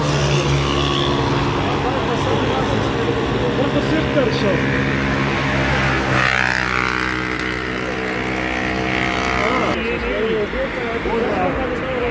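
A motorcade of cars carries Imran Khan toward Shifa International hospital in Islamabad, with a loud steady drone of engines and traffic while someone talks over it nearly the whole time.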